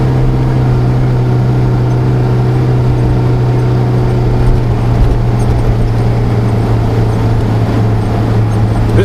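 A fully laden 4WD grinds up a wet sand dune in the Simpson Desert near Eyre Creek, its engine a steady, loud low drone held under load throughout with no breaks.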